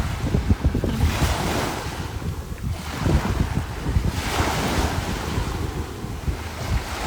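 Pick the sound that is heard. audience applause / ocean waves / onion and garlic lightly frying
ocean waves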